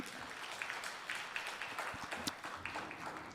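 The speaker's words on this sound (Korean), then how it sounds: "우리 하나님께 감사박수 올려드리겠습니다" A church congregation gives a round of applause during a sermon, a soft, steady wash of many hands clapping, fairly distant and continuous with no speech over it.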